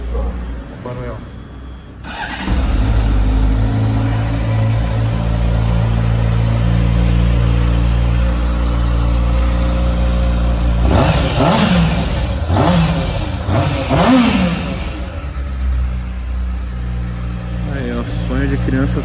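A 2013 Honda Hornet motorcycle engine starts up close by, settles into a steady idle, then revs sharply several times, with someone talking over the engine.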